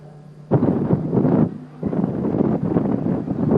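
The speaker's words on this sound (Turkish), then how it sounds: "Şanlıurfa'da bugün şiddetli rüzgar etkili olacak" Strong wind gusts in Şanlıurfa roar as a loud, broad rumble in two long bursts with a short lull between them, with no voices.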